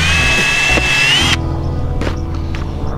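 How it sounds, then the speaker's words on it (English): A power drill spins a bit into a metal trampoline net support pole, whining loudly and steadily for about a second before the pitch drops and the motor runs on at a lower, rougher tone nearby. "It's a drill bit I already had out here."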